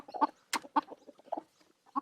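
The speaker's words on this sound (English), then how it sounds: "There's 2 chickens in there now." Chickens clucking close by in short, uneven bursts, a few soft clucks and sharper squawks with brief pauses between them.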